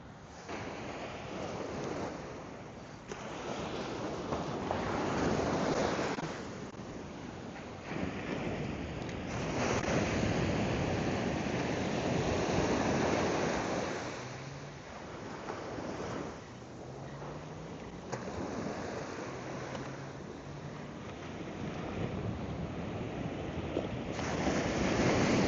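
Small ocean waves wash onto the shore at sunset in a steady, rushing surf that swells and eases in slow cycles, with wind buffeting the microphone throughout.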